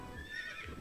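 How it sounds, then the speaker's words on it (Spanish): A horse from Zelda: Four Swords Adventures, summoned with carrots, gives a short whinnying neigh with a faint clip-clop underneath, a brief game sound effect with no talking. "estas carrots nos van a servir para invocar un caballito"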